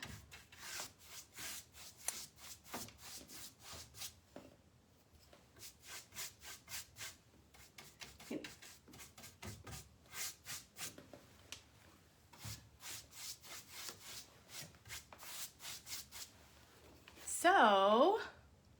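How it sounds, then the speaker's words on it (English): Wax being buffed by hand onto a faux birchwood painted finish, a steady rhythm of soft rubbing strokes, close and moderately quiet, with a brief louder scraping burst near the end. "it'll be lighter and I'll buff it."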